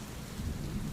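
Steady heavy rain pours down, with a low, continuous rumble of thunder rolling underneath, dense and unbroken for the whole second.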